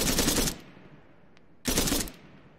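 Two loud bursts of gunfire in Arma 3, each a half-second crackling volley with a trailing echo, separated by about a second of quieter ambience.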